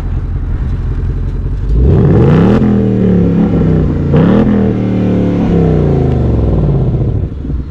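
A 2020 Ford Mustang GT 5.0 V8 with its exhaust set to the loudest track mode revs hard twice, the loud engine roar climbing and falling back between steady idle-level rumbling, heard close up with no talking.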